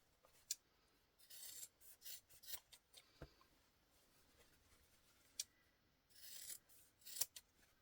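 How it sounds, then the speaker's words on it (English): Scissors trim excess fabric for a sewn bowl cozy, making quiet, irregular snips and crisp cutting rasps in short bursts with pauses between, close up and faint. "So now we're going to trim the excess fabric off of each of these."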